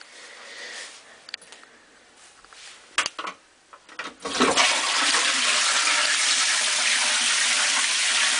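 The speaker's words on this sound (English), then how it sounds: "the toilet flushed counterclockwise" A toilet flushing in Australia: a few faint clicks and handling noises, then a loud, sustained rush of water that swells at about four seconds and keeps roaring steadily to the end.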